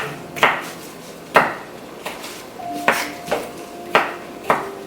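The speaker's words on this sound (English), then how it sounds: "finished the chopping process" Knife chopping tomatoes on a board for a spicy tomato jam, a series of sharp, fairly close thuds at an uneven pace with brief clinking rings between strokes.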